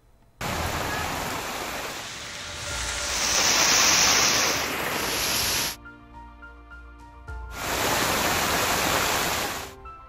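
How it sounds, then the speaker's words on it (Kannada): Heavy rain pours down in Belagavi, Karnataka, a dense, loud hiss of falling water that breaks off briefly for a short stretch of music, then resumes. "ಬರದ ನಡುವೆ ಒಮ್ಮೆಲೆ ಧೋ ಅಂತ ಆರ್ಭಟಿಸಿದ ಮಳೆ"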